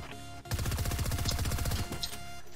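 Gunfire in the video game Fortnite during a 1v1 match, a rapid burst of loud shots starting after a brief pause and rattling for about a second and a half, with no talk over it.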